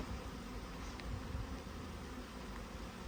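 Honeybees drone around a hive during nucleus setup and queen rearing in the rain, a faint, continuous hum blended with a wash of steady background noise.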